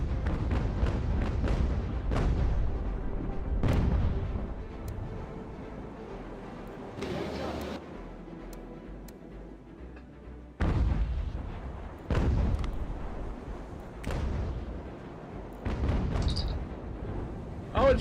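Cannons fire at a ship's sails during a naval battle in a video game, each shot a deep booming blast. The blasts come in repeated heavy volleys, loud and close, with short lulls between them.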